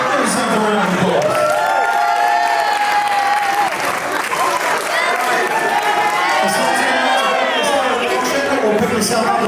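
A crowd at a jubilee event applauds and cheers after a quiz, steady dense clapping mixed with whoops and children's shouts throughout, loud and close.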